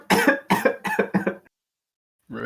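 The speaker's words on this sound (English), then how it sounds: "coughing tonight" Four loud, close coughs burst out in quick succession from a podcast host in an indoor studio, each a harsh broadband hack, then silence before a voice begins.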